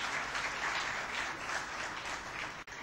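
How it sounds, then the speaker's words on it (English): Conference audience at an accountants' golden jubilee event giving a sustained round of applause, a broad, even roar of many hands clapping that continues without pause and cuts off briefly near the end. "we have to give him a very, very loud round of applause"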